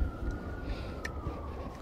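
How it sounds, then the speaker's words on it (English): Police siren faint and far off, a thin steady wailing tone drifting slightly in pitch over low background rumble, no speech. "Okay, hear the sirens again."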